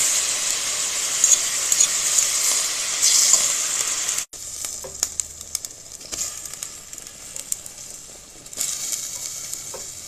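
Meat sears in a hot pan, with loud, dense sizzling and crackling that drops sharply in the middle, then continues softer with scattered pops and spits.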